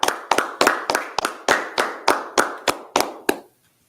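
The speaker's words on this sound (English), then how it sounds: "Clap it up." Slow, rhythmic group clapping rings out in a dozen loud, evenly spaced beats, each with a short echoing tail, before stopping abruptly into silence.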